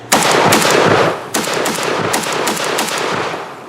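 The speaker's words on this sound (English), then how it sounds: "first shots with the" Shots from a Polish WBP Lynx pistol, fired rapidly in loud, sharp bursts close by, with one long string of shots followed by a brief pause and another burst.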